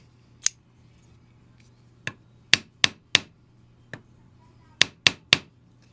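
Crisp mechanical clicks and snaps from a folding knife blade opening, about ten in all, come at uneven intervals, close up and sharp against a quiet background.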